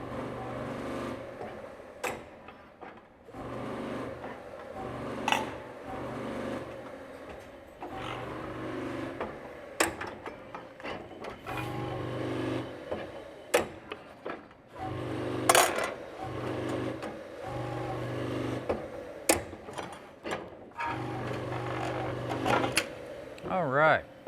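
ChannelBender SXP machine bending .063 aluminium channel letters, with repeated sharp clacks and metallic clunks over a steady mechanical hum, close by and irregularly spaced, with a person speaking at times.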